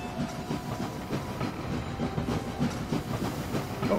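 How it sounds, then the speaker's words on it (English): A train rolls along in the video game Anno 1800, its rhythmic clickety-clack of wheels and steady rumble continuing at moderate volume with no voices. "Where are you going, train?"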